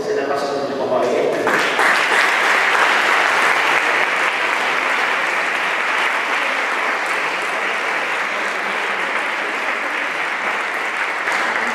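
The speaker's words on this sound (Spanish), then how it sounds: "Yo creo que eso solamente merece una ovación" A bullfighting event audience gives a sustained ovation, dense loud clapping rising quickly after a brief voice at the start and holding steady and full for several seconds.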